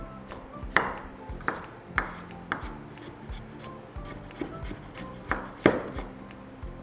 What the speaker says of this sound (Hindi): अब नारियल को रफली कट करना है ताकि इसे हम पीस सकें।